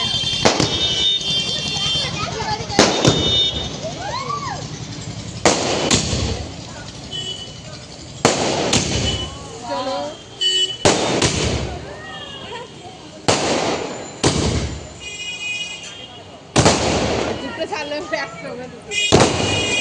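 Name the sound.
firecrackers bursting in pairs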